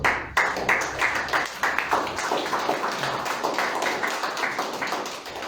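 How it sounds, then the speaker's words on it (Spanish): A congregation claps together at a church service, a dense, steady wash of hand claps with rhythmic accents throughout, loud and close, with no talking over it. "Denle un aplauso al Señor."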